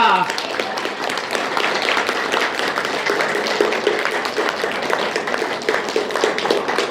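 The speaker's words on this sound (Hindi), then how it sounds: "तो ताली कौन बजाएगा?" An audience claps at a yoga gathering after a guest speaker's talk, producing dense, steady applause that fills the whole stretch at an even level.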